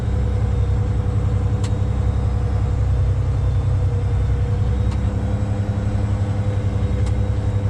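A loaded grain truck rumbles through a farm barnyard, its engine a steady, loud low drone that holds throughout with no talk.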